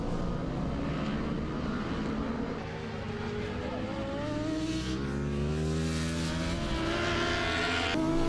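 Superbike motorcycles race at Circuit Carole in the FSBK 2016 championship, with loud engines roaring and rising in pitch as they pass close. A commentator talks over the racing.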